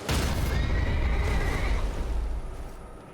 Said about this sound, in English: The spectral steed is frightened and cannot be summoned.